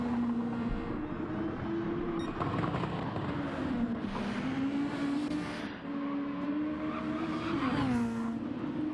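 A Toyota Supra race car in a sim racing game at Barcelona runs with a steady droning engine note that rises and falls as it passes, with faint tire noise and other cars.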